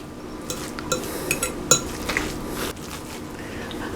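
Utensil stirring half a cup of onions into a mixture for fried mackerel, with scattered light clinks and scrapes against a bowl in a quiet kitchen, close and fairly soft.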